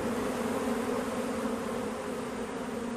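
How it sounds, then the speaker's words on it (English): Honeybees being moved to an isolation area buzz as a colony in a continuous, steady hum of hundreds of insects, close and even in loudness, with no talking. "No, they're lovely bees."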